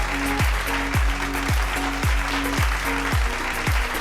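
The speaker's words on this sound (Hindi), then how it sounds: "तो जोरदार तालियां आप लोगों की" Loud applause from the audience welcoming a guest at a Zee Media leadership summit stage event, the clapping blended under a driving, repeating bass-heavy music beat that pulses about twice a second.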